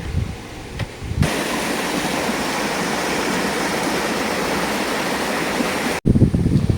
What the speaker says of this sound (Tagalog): eto na ang unang falls na nadaanan namin